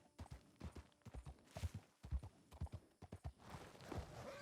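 Horse hooves clip-clopping at a trot in Red Dead Redemption 2, a steady run of sharp, close hoofbeats that gets busier toward the end, with a faint whinny possible.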